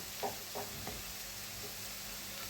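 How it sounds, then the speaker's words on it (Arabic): Onions fry in a pan, a faint steady sizzle with a few soft knocks and scrapes of a utensil near the start. "نخلوه يتقلى"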